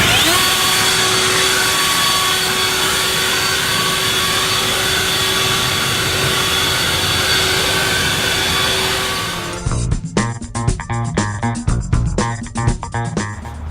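An EGO 56V battery-powered leaf blower runs at full power close by with a loud, steady whooshing whine, clearing leaves and small sticks under trees, then its airflow turns choppy and uneven in the last few seconds.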